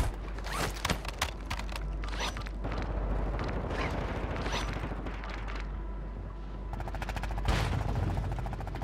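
Gunfire in Call of Duty Warzone, rapid bursts of shots at the start, then a dense rattle of combat noise with a sharp burst near the end, moderately loud and without talking.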